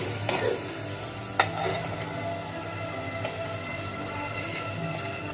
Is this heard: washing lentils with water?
no